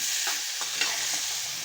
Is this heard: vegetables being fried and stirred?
yes